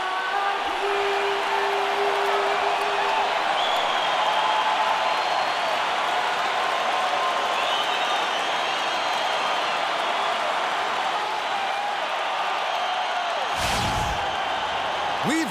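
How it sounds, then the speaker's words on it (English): A packed Toronto arena crowd roars continuously at an NBA Finals game, a loud, dense wash of cheering and noise that holds steady throughout, with a sharp slam-like burst near the end. "We've got an electric crowd here at Toronto's Air Canada Centre."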